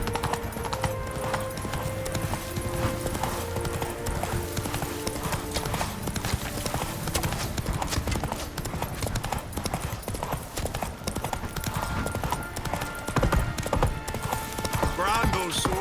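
Horse hooves clip-clop steadily in The Witcher 3, a continuous rhythmic trot over game music and ambience, with a voice talking over it.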